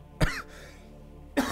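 Two separate coughs from a person, a sharp one near the start and another just before the end, with a quiet gap between them and no talking.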